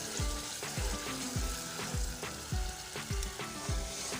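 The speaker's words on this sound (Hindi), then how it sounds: "दही को जो है अच्छी तरह हम इस मसाले में भून लेंगे" Yogurt fries in a spice masala for potato bhujia, a dense steady sizzle broken by regular stirring scrapes roughly every half second, close and with no one speaking.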